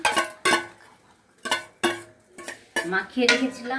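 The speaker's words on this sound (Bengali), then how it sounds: "এই যে মাংস দিয়ে দিলাম, মাখিয়ে রেখেছিলাম" Marinated meat dropped into a cooking pan, several clattering metal clinks and scrapes of a spoon against the pan in separate bursts, with a faint sizzle between them.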